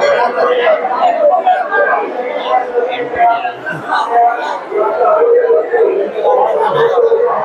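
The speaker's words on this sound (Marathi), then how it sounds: "भरपूर गर्दी आली आहे मित्रांनो मंदिराच्या आतमध्ये." A packed crowd inside a temple during a village fair (jatra) for the goddess Mauli at Sonurli, a dense, steady babble of many voices close around, with someone talking over it.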